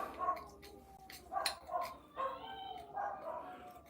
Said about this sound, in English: Again, there's the dogs. I don't know if you can hear them barking